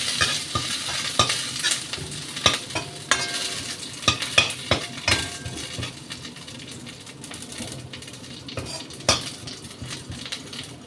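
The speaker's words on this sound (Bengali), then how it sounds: "বাকি তেলে কারি পাতাটা ভাজছি" Curry leaves frying in the leftover oil of a potato masala, with repeated metallic stirring clicks and scrapes of a utensil against the pan over a steady close sizzle.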